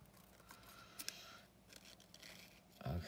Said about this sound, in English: I'm just gonna cut around this roughly